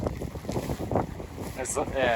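Gusty wind buffeting the microphone in low rumbling bursts over a bean field being planted, with a voice speaking briefly beneath the blustery noise.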